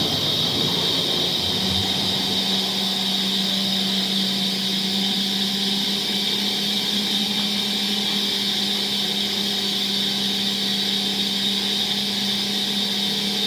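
A centrifugal pump motor running on a two-stage pump test rig, its loud steady whine and hum holding constant throughout with a rising tone settling in near the start.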